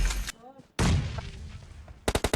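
Gunfire in PUBG Mobile: a loud burst at the start, a heavy blast, then a rapid string of close, sharp shots at the end.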